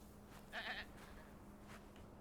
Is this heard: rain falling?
no